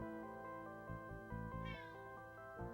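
A cat meows several times in a row, close and clear, with drawn-out tonal cries that rise in pitch near the end, alone with no talk over them.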